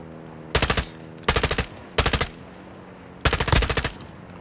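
Automatic gunfire in the video game DMZ, four loud close bursts of rapid shots separated by short pauses, with no talking.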